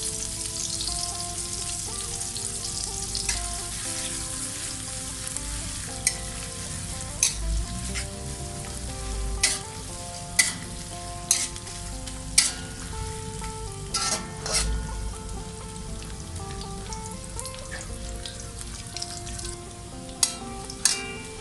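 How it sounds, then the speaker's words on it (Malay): Anchovies (ikan bilis) fry in hot oil with a steady soft sizzle, punctuated by sharp spatters and the occasional scrape of stirring. "aku akan goreng ikan bilis ni sehingga garing."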